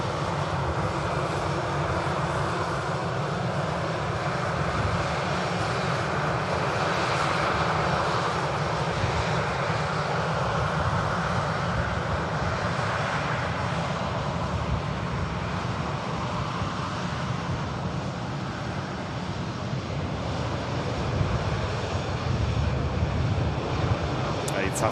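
Airliners taxiing at Manchester Airport, including a Turkish Airlines jet, with a steady loud engine roar that holds throughout, heard from nearby with a voice speaking over it at times.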